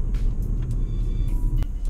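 Ford Focus ST exhaust, a close, loud, deep steady drone with a throbbing low rumble that stays even for a couple of seconds, with no talking.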